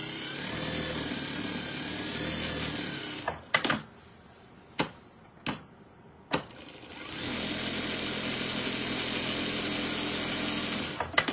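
A sewing machine stitches down both sides of a fabric strip to form a tube, with a steady close whir that stops for a few seconds of sharp isolated clicks before running steadily again.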